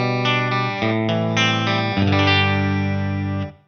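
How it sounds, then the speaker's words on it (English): A US standard 2001 Telecaster fitted with Mick Brearley Burgerman signature pickups plays through the clean channel of a Laney VH100R amp, strumming a few ringing chords that sustain and then fade at the end, with no talk. "This is a US standard 2001 Telecaster, and it's got Mick Brearley's Burgerman sign"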